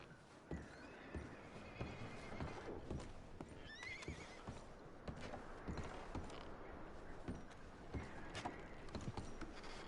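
Horses in the video game Red Dead Redemption 2 whinny and neigh repeatedly while their hooves clip-clop and shuffle nearby, a steady stretch of animal sounds with no clear talking.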